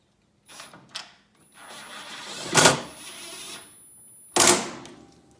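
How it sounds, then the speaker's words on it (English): A new fuel tank being set in and bolted down on an off-road mower, a few scattered clunks, then two loud close metallic impacts with quieter mechanical rattling between them, no talk. "we're gonna set this in here and bolt it down"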